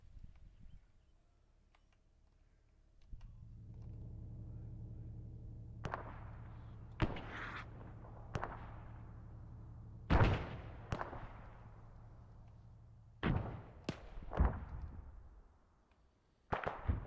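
Gunfire in the military video game Arma 3 during an infantry exercise: several sharp, loud reports spaced irregularly over a steady low rumble, with a couple of closer bursts near the end.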